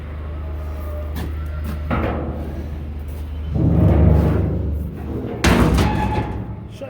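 Heavy barn doors on a sheep farm slam shut at evening feeding time, giving several loud wooden thuds and bangs one after another over a steady low background rumble.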